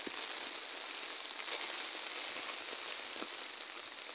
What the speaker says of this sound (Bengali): বৃষ্টির বেগটা বেশি